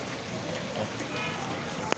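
Rain falling on a street market at Lal Market on Gujar Khan Road: a steady, soft, even hiss that stays constant, with one brief sharp knock near the end.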